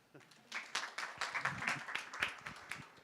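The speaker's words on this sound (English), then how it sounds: "Let's give him a round of applause." A conference audience at a scientific session claps for a speaker, a short burst of scattered, fairly close hand claps that rises and fades, with a voice over it.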